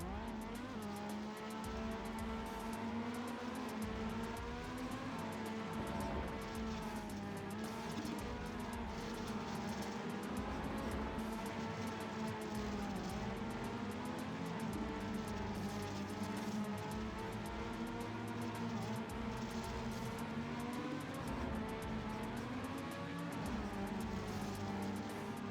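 Race car engine from the TrackMania United Forever video game, holding a steady, loud drone with shifting pitch as the car drives on without pause for the whole stretch.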